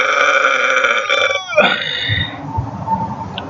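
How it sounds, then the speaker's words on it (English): A long, loud, close belch pushed up from the chest, starting as a steady buzzing tone that bends and breaks apart midway, then trails off into a rougher, gurgling tail. "Focus on the burping from the chest instead of the stomach."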